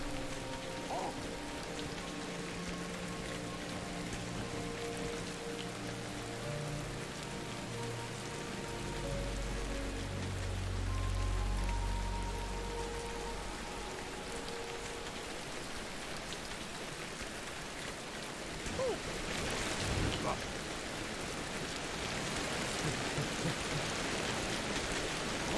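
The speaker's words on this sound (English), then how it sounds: "Really loud and rainy." Heavy rain pours steadily in Ancestors: The Humankind Odyssey, a loud dense hiss of drops on surfaces that runs the whole time, with a low rumble swelling midway and a brief sharper burst later.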